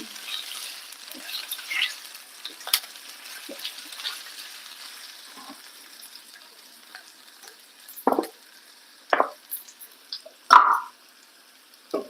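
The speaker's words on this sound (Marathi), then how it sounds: "बटाट्याला ना छान फ्राय होऊ द्यायचा" Diced potatoes fry in a pan for sabudana khichdi, a soft steady sizzle under occasional scrapes and stirring clatters that grow sharper and more frequent toward the end.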